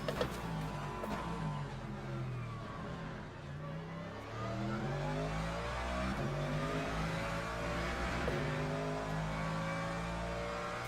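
Race car engine in the sim racing game Le Mans Ultimate during an endurance race, revving loudly and continuously with rising and falling pitch sweeps as gears change.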